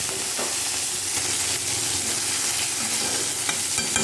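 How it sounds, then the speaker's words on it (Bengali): Dry red chili, panch phoron, slit green chili and tomato frying in hot oil for an egg curry, a loud, continuous close sizzle with dense crackle and occasional stirring scrapes, no talk. "ওই তেলের মধ্যে একটু শুকনো লঙ্কা আর পাঁচফোড়ন দিয়ে দিলাম, আর চেরা কাঁচা লঙ্কা আর টমেটোটাও কিন্তু আমি দিয়ে দেবো"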